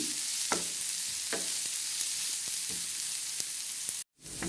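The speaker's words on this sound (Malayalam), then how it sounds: "ഇപ്പോൾ സവാള ചെറുതായിട്ട് ഇങ്ങനെ മൂത്ത് വന്നുകൊണ്ടിരിക്കുകയാണ്" Onions frying and browning in a pan for coconut rice and chicken curry make a steady, close sizzle with a few soft stirring knocks, then cut to brief silence near the end.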